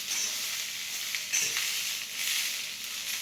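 Fresh green peas dry-roasting in a pan give a steady, close sizzling hiss across the whole stretch, with a brief rise as they are moved about, and no voices.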